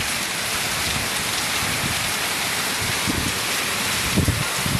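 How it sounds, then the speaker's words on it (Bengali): Heavy rain with small hailstones and strong wind during a storm in Gazipur, Bangladesh, pours as a loud, constant roar with scattered low thuds of impacts, close and unbroken. "প্রচুর শিলাবৃষ্টি হচ্ছে, প্রচুর পরিমাণে। সাইজটা ছোট, সাথে প্রচুর বাতাস।"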